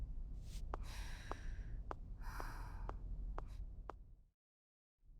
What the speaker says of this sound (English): She's breathing louder than I'm talking.